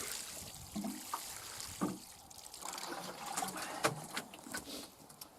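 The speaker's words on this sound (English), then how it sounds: "pre-water the soil, give it a good soak" Allotment soil being given a good pre-soak before sowing carrots, a steady trickle and patter of water close by with intermittent splashy bursts and no talk.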